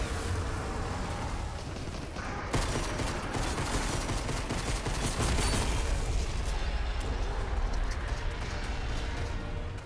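Gunfire in Fortnite from a pistol amid a dense battle, with rapid overlapping shots and booms sustained throughout, loud and busy with no clear gaps.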